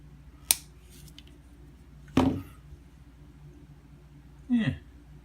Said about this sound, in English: Cut this lead.